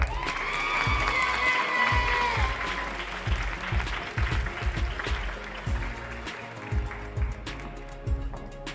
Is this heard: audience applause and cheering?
yes